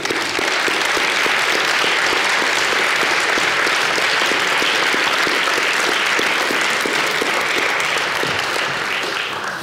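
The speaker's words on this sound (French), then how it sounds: "On va t'applaudir déjà." Audience at a talk on imagined futures and collapse applauding a speaker: a dense, steady wash of many hands clapping, loud and close, sustained evenly throughout the whole stretch.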